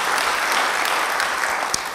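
A church congregation applauds during a sermon: steady, dense clapping from a crowd, fairly close and even in loudness throughout, with no voices rising above it.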